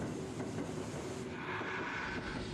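Train passing in the Burger & Frights horror video game, a loud continuous rushing rumble with faint rail clatter that shifts in tone as it goes by.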